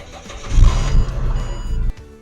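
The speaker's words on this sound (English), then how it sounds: "we are going to start the vehicle up for roughly around a minute, let it idle" A Ford Territory engine cranks and fires up, giving a loud, brief low rumble that steadies into a lower idle, then drops away near the end.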